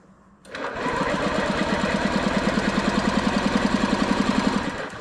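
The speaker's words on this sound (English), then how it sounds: "you do have to hold the throttle wide open when you're cranking it" Honda Metropolitan four-stroke scooter engine cranking with the throttle held wide open during a compression test, a steady rhythmic chugging starter drone that kicks in abruptly and runs continuously, close and loud.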